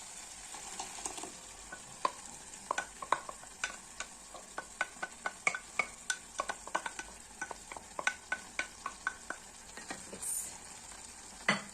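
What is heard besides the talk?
tomatoes stirred into sizzling goat meat stew in a pot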